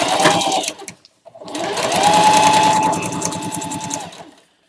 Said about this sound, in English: I'm just going to sew down both sides because we're going to cut them off anyway.